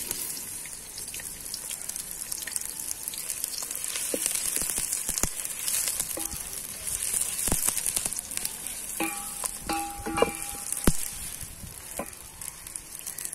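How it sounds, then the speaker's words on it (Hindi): Onions hit hot ghee in a pan and sizzle steadily. The frying runs continuously throughout, with crackling pops and spatters and some brief clinks of a utensil near the end. "घी गरम हो गया, अब इसमें प्याज डालेंगे"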